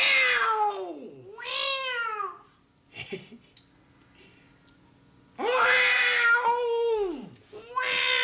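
A person imitates a cat, giving drawn-out, sliding meows in two bursts with a quiet gap between them and a short sharp call in the middle, close and fairly loud.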